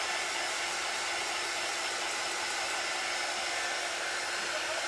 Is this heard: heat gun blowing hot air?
yes